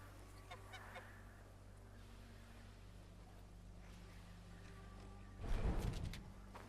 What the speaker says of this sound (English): we're just waiting on a couple of geese